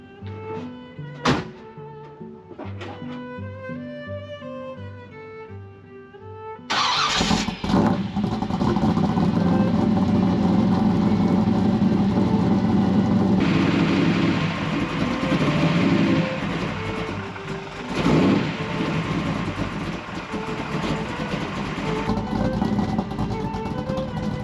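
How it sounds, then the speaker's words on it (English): A Chevrolet C10 longbed truck with a 540 engine is started cold: a few short cranking bursts and tones, then the engine catches and settles into a loud, steady idle with rough surges. "Pay attention to this cold start."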